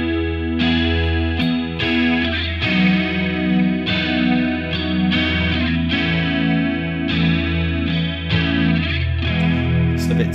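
Electric guitar played through a Boss chorus emulation plugin with distortion added, sustained chords ringing with a shimmering, wobbling chorus and gritty overdrive, loud and continuous with brief gaps between strummed phrases.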